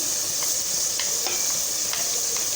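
Egg chole spices being stirred in a hot, oily pan, a steady bright sizzle throughout with light scraping strokes of the spoon.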